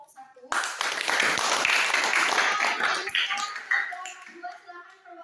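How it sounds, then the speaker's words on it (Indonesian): A class applauds a student group after its presentation on European ocean voyages: a burst of many hands clapping in a dense patter, fairly close, fading over the last seconds as voices start up. "Beri tepuk tangan untuk kelompok 1."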